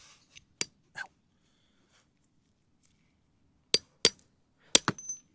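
Several sharp metallic hammer strikes on a part of an R53 Mini Cooper S during a repair, two isolated hits early then a tight cluster of four or five knocks near the end, close and fairly quiet with no talk.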